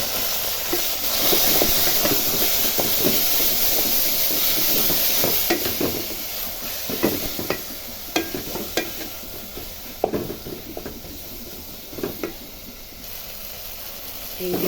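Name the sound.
leafy greens sizzling while cooking in a pan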